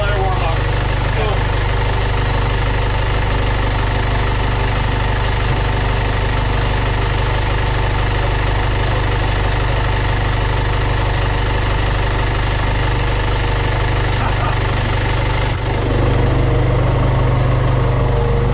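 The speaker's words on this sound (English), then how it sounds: "the engine is running again" A sailboat's engine idles steadily while warming up, a continuous low, even rumble with a faint mechanical knock that carries on unbroken from start to finish.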